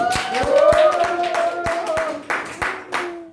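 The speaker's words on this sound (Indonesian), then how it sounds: "Kita berikan aplaus dulu untuk kelompok" A classroom student group gets a short burst of applause, several hands clapping unevenly for about three seconds with a voice lingering underneath and a few final scattered claps.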